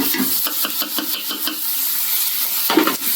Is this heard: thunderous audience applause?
no